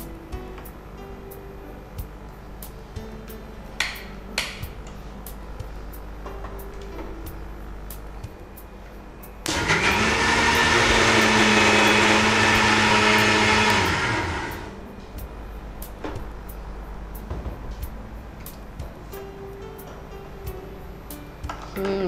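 A kitchen mixer grinder with a little salt added starts abruptly and whirs loudly for about five seconds before cutting off, set between quieter stretches of faint kitchen clatter.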